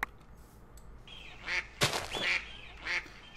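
Ducks quacking in a video game, several loud nasal quacks in irregular succession over quiet background hiss, close and clear.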